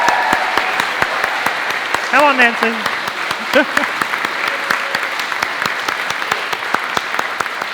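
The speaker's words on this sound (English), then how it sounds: "can we have a round of applause for them as well?" An audience at a national science-communication competition final breaks into sustained, steady applause, loud and close throughout, while a voice briefly calls out over the clapping.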